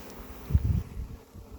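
Honeybees buzz around their hives outdoors, making a faint, low, uneven hum that rises briefly in the middle and then settles under steady background hiss.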